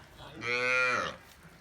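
A single dairy cow on a village farm lets out one loud, drawn-out moo close by, with quiet surroundings before and after.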